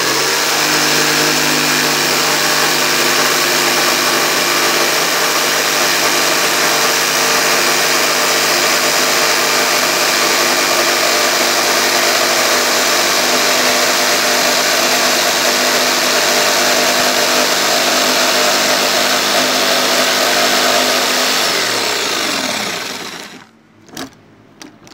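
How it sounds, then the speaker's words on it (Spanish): A jigsaw cuts around the contour of a homemade speaker cabinet panel with a loud, steady buzzing whine that holds for about twenty seconds, then winds down and stops. "Ahora con la caladora vamos a cortar por todo el contorno."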